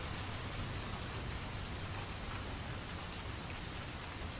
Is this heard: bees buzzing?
no